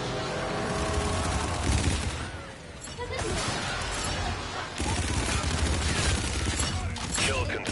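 Video game gunfire crackles in near-continuous bursts, with sharp shots and machine-gun rattles layered over dense in-game effects. The volume is fairly loud and close, easing briefly before the firing resumes.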